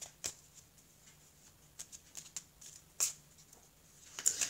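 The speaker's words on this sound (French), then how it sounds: "je vais prendre maintenant, s'il vous plaît, Mehdi, donc une carte du petit oracle des âmes amoureuses" A card is drawn from a small oracle deck, giving soft, scattered paper taps and light rustles over a quiet background, with a sharper slide and flick near the end.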